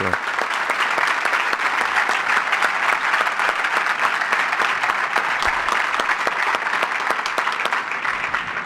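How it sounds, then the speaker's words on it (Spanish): Sustained, steady applause from an audience at a public presentation of a citizens' initiative, a dense even roar of many hands clapping for nearly nine seconds without a break. "Un fuerte aplauso."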